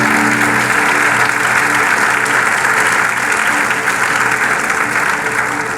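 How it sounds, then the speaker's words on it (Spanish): A large crowd applauds loudly and continuously, a dense steady wash of clapping with no talking over it. "¡Aplausos! ¡Bravo!"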